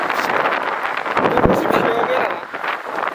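Broadband wind buffeting roars continuously over a bicycle ride on the road from Istanbul to Silivri, loud and close against the microphone with no pauses.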